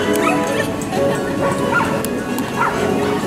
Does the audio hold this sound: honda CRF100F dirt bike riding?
no